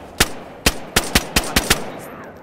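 Gunfire rings out in the survival video game DayZ on the Namalsk map: seven crisp shots in a quick uneven burst, loud and alone against a quiet background.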